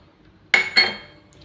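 A wok is set down on a kitchen stove, giving two quick metallic clanks of pots clinking about a quarter second apart, close and fairly loud, then a fading ring.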